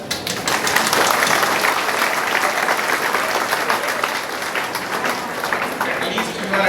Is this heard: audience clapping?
yes